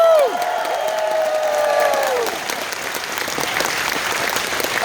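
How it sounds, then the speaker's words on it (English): Closing-ceremony crowd at a furry convention answers with a round of applause and some cheering, sustained clapping that builds after a fading voice at the start and continues steadily at moderate volume. "By a round of applause, how many of you went to any panels this weekend?"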